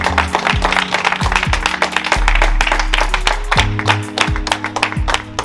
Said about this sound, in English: come on, we'll give our next round of applause